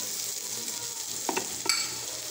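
Ingredients toasting in a frying pan give a steady close sizzle, broken near the end by a few quick scrapes of stirring.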